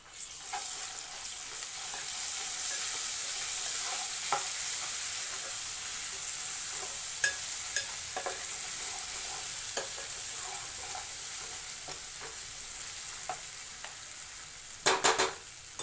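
Ginger garlic paste frying in hot oil in a pan, a steady loud sizzle throughout with occasional scraping stirs of a spoon and a louder clatter near the end, no talking.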